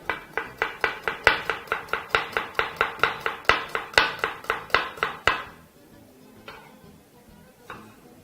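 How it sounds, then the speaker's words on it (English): Knife chopping a medium white onion on a board for a Malagasy romazava dinner, about two dozen quick, evenly spaced sharp chops at close range, then stopping into a quieter tail with a couple of faint knocks. "just chopping up some of the ingredients here"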